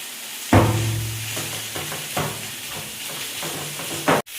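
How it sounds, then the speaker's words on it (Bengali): Chopped onions fry in a pan as a utensil stirs them, with a hissing sizzle under several distinct scraping strokes and a knock at the start and end. "এবারে পেঁয়াজ কোচানোটা আমি দিয়ে দেবো। দিয়ে আবার ভালো করে নাড়াবো।"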